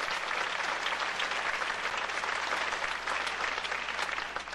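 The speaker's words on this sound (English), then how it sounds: "as soon as you get a round of applause" An audience claps steadily, a dense and even round of applause that holds at full strength and tapers slightly at the very end.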